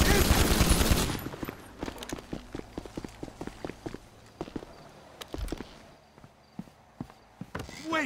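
Gunfire in Grand Theft Auto V story mode: after an opening burst of loud sustained shooting, scattered single gunshots and short volleys crack at irregular intervals with some distant impacts.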